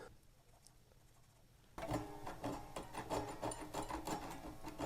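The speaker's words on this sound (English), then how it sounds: "I can hear the actual sanding going on." Quiet rasping at first, then from about two seconds a louder, steady scraping and rubbing as guitar frets are sanded back and forth, close by.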